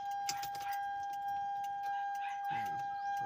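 A car key slides into the ignition of a vehicle with a shorted starter, giving brief metallic jangles near the start and again toward the end, close by over a steady electrical hum and faint talk.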